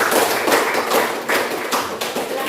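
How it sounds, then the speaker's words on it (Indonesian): A classroom of students in a lesson on prayer rules claps for a group, with dense, fairly loud applause that keeps going in uneven rhythmic swells. "Ya, tepuk tangan dulu buat kelompok 1."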